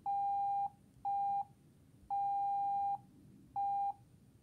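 Morse code letter C keyed very slowly as steady electronic beeps: long, short, long, short tones in a clean rhythm, loud and alone.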